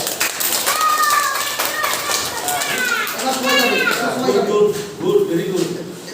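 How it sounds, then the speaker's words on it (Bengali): Primary school children in a music class clap for their classmate Brishti in a quick, scattered burst, mixed with children's voices and chatter nearby. "বৃষ্টির জন্য একটা হাততালি দাও"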